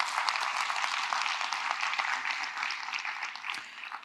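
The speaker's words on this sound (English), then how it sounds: "Please give my panelists a round of applause before they leave the stage." Sustained audience applause for a panel of speakers at an infrastructure finance conference session, a steady dense wash of clapping from a large crowd that holds for several seconds and eases slightly toward the end.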